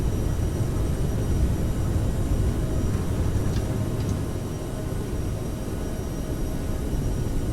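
CRJ regional jet accelerating down the runway for takeoff in Microsoft Flight Simulator, a steady, loud, broadband engine roar with rumbling low end that holds constant throughout, no voices.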